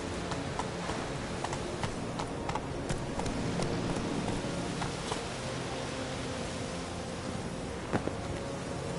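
Hoofbeats of Roach, the horse ridden in a video game, trot in a steady, close clip-clop rhythm on firm ground under faint background ambience.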